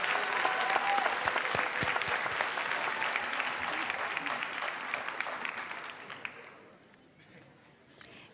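Audience applause at a 2019 graduation recognition ceremony for scholars: dense, sustained clapping from a crowd that stays full for several seconds before tapering off toward the end.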